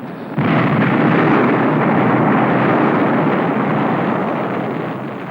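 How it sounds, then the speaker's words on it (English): A sudden deep blast from an underwater volcanic explosion near the sea surface erupts into a sustained, dense roar that churns for several seconds before slowly fading, loud and close. "When lava pours out near the sea surface, tremendous volcanic explosions sometimes occur."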